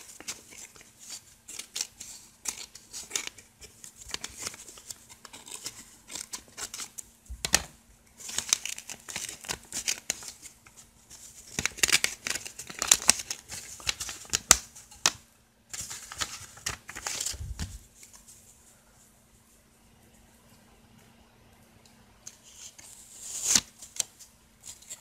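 Paper crinkling, tearing and rustling in irregular bursts as a mailed envelope is opened by hand, close and fairly quiet, with short pauses between handling sounds.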